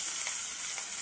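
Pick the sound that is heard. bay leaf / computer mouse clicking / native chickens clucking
bay leaf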